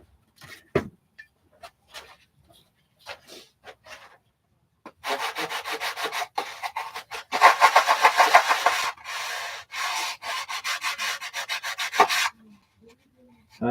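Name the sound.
hand sanding wallboard in a mold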